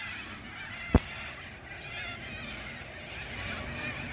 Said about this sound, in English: Oh, you can hear all the cockatoos.